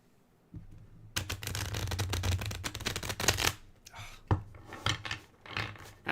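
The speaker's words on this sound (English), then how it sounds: "Give them all a nice little shuffle." Playing cards shuffled by hand in a quiet room, a dense riffling burst lasting about two seconds, followed by several shorter taps and flutters as the deck is handled, close and fairly soft.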